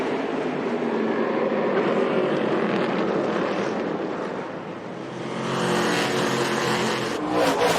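Race trucks roar around the short Martinsville oval during a Gander Truck Series race, a steady dense engine drone that dips briefly and swells again as the pack passes.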